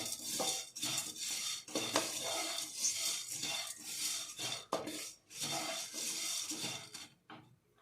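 Maggi noodles roasting in ghee in a pan, a spatula scraping and stirring against the metal in steady irregular strokes, close and fairly loud, with clinks of utensil on pan and no talking.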